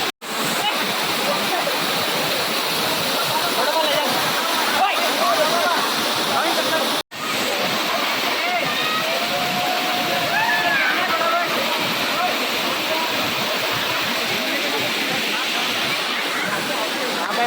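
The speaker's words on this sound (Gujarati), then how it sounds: "આ બિલપોડી વોટરફોલ." Bilpudi waterfall pours in a loud, constant rushing roar heard up close, broken by one brief cut, with faint voices of people nearby mixed into the water noise.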